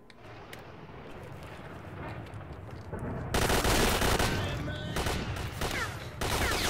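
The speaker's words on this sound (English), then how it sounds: "Stop shooting me!" Rapid gunfire in the video game STALKER, dense bursts of automatic shots starting quietly and swelling into loud sustained volleys in the second half, with brief pauses between them.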